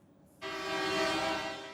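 A long blaring vehicle horn sounds in a farmers' tractor convoy heading to Brussels, a single sustained blast that starts abruptly and holds steady for over a second, loud and fairly near over road noise.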